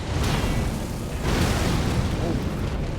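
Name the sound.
second explosion in Elden Ring video game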